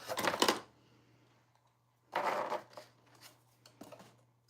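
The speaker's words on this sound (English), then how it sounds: "Okay, scissors." Scissors snip through paper while gift boxes are being crafted: one long crisp cut, then a few shorter snips spaced apart, close up and fairly quiet against a low steady hum.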